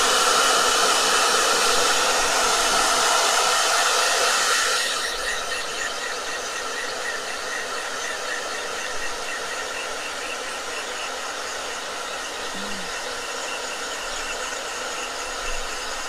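A blow dryer dries a watercolor painting, giving a loud, steady whirring hiss for about five seconds before it drops to a quieter, continuous hum.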